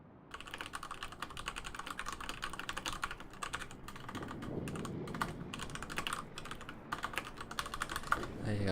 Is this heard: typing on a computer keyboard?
yes